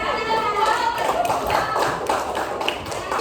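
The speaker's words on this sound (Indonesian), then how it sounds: "Beri tepuk tangan" A classroom of primary school children applauds a student, a dense patter of many hands clapping together at steady loudness for a few seconds, with faint voices mixed in.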